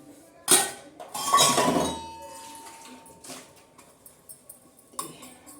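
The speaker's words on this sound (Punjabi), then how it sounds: "ਮੈਂ ਚਲ ਭਾਂਡੇ ਧੋ ਦਿਆਂ" Pots, plates and utensils clink and clatter in bursts as dishes are washed by hand in a household kitchen, with several sharp knocks close by and quieter rattles between them.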